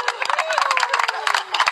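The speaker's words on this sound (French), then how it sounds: "On va applaudir pour Enis." An audience claps and cheers for Enis at a gathering, a dense patter of hands with a sustained voice-like tone running through the brief burst.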